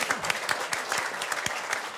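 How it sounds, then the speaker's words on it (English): Studio audience applause on a television panel show, dense steady clapping throughout with brief louder bursts, no talk over it. "a big round of applause for Green MP Eugenie Sage."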